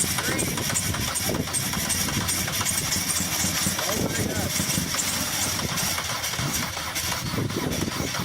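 A rough old car engine runs unevenly near the microphone at its first startup, chugging and sputtering on two cylinders as the others misfire, with people's voices faintly mixed in.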